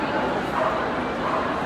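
A happy dog at a Crufts working trials display gives continuous excited yipping and whining barks, loud against dense arena crowd noise and talk.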